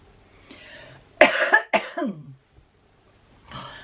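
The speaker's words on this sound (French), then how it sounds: "Je tousse." A woman coughs in a short, harsh burst of two or three close, loud coughs, with a soft throat noise before and after during a foundation makeup application.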